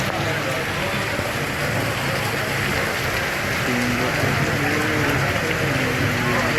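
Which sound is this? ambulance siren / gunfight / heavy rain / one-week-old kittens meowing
heavy rain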